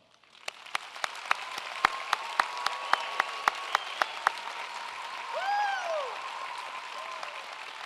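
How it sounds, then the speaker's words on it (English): Applause from a university architecture and design commencement ceremony audience, a steady wash of many hands clapping with a few sharp individual claps standing out early, then a brief swell of crowd noise near the end. "Please give our graduates a final round of applause."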